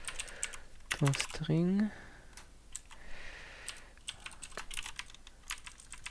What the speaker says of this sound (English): Typing will be faster.